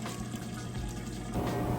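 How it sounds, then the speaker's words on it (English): Kenmore washing machine filling with clean rinse water, a steady close pouring and trickling wash of water running continuously with a slight swell near the end, no voices. "It'll fill back up with clean water now, do the rinse"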